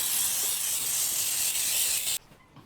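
Pam cooking spray sprayed into baking pans: a loud, close, continuous aerosol hiss lasting about two seconds, cutting off abruptly, followed by quiet room noise.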